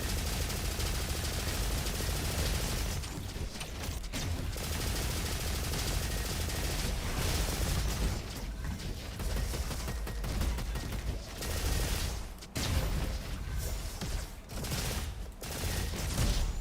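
Rapid pistol fire in the online shooter Dirty Bomb, dense bursts of shots repeating continuously at high volume with brief gaps, no talk.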